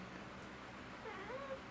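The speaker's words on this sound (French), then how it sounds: "c'est mon chat" A pet cat gives a faint, brief meow with a rising then falling pitch, nearly buried under a steady room hiss.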